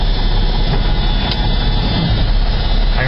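Truck engine running loud and steady in thick mud as the clutch is let out, a continuous low heavy rumble with broadband roar throughout.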